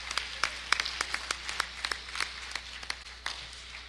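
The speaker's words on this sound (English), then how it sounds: "Please give our principal's list recipients a round of applause." Scattered, sparse clapping from a small church audience honoring principal's list student recipients, individual claps distinct and fairly quiet, with an uneven rhythm and no speech over it.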